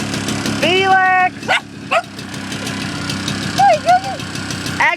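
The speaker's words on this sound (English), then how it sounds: "let's see our dogs over here" Several dogs give barks and whining yelps close by while a lawn tractor idles steadily underneath, its low engine drone running through the whole stretch.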